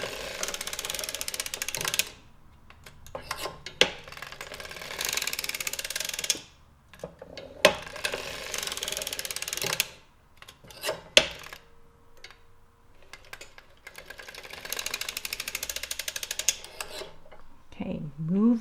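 A circular sock knitting machine being cranked, with bursts of rapid ratcheting clatter from the needles and gears broken by short pauses and a few sharp metallic clicks.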